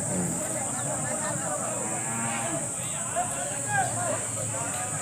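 Cattle at a village cattle fair in Cheluru, Gubbi taluk, Tumakuru: several drawn-out moos rise over a busy background of people talking and a constant high electronic whine, the lowing fairly close and repeated.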